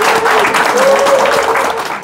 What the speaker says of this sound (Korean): 박수로 응원해 주십시오